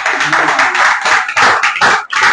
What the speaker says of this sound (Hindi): एक अच्छा ताली बजाकर परोस करते हैं